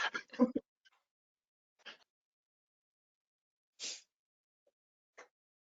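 A single quick sneeze up close, followed by a few faint breathy sounds and small sniffs in an otherwise quiet room.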